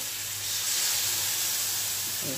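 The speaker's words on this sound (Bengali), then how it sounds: "মশলাটা ভালো করে কষাতে হবে, একটু জল দেবো এর মধ্যে।" Water poured into a frying spice paste in a home kitchen pan sets off a broad steady hiss and sizzle that swells after half a second and holds, with a faint bubbling creeping in at the end.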